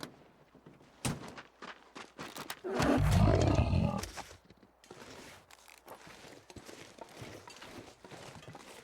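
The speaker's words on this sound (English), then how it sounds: "I know there's a wolf in the area." A wolf in The Long Dark snarls and growls in one loud, rough burst lasting about a second, surrounded by faint scattered thumps and clicks in an otherwise quiet wilderness scene.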